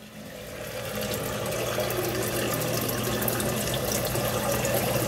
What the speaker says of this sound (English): they got to hear this sump pump turn on and discharge water